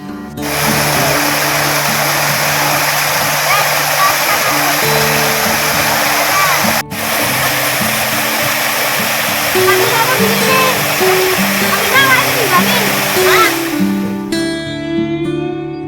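A river flowing beside a campground at Lor Sambi on Merapi, a loud continuous rushing roar of water throughout, with music and a voice faintly layered over it near the end.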